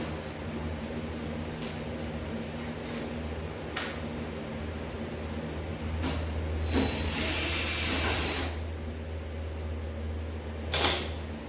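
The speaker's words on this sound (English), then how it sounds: "I'm going to back out a couple of the screws and stick the insulation behind it." Screws being backed out of a garage door panel: a steady low hum with faint knocks, then a louder whirring burst lasting under two seconds and a brief second burst near the end.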